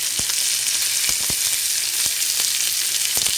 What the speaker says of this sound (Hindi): अब तकरीबन 2 टेबल स्पून हमने ऑयल डाला और इसके अंदर ये सब्ज़ी डाल के इसको फ्राई करें